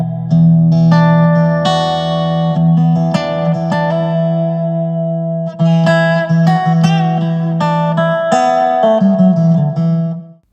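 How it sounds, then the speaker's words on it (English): A Variax digital guitar set to its Martin acoustic model and run through a Fishman Jerry Douglas resonator pedal plays loud, ringing chords and picked notes over a sustained low drone, heard alone. "I run that through a Fishman Jerry Douglas or a Resonator pedal that I would use with my Resonator"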